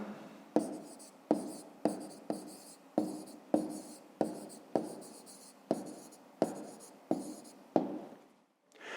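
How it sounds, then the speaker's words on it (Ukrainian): Pen or chalk writing out a math inequality by hand, a dozen short scratchy strokes in a steady rhythm, close and quiet, with no talking. "Пишемо нерівність."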